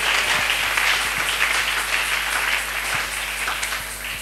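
A church congregation applauds loudly and steadily, dense clapping filling the space for several seconds with a constant crowd wash.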